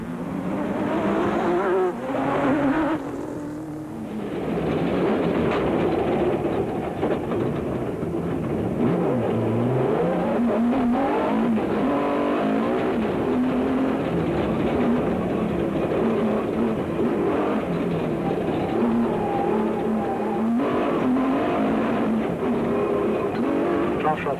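Off-road rally cars race in the Tarka 400 desert event in 2003, engines roaring loud and steady with shifting pitch as they pass, tyres skidding at times and a brief dip early on.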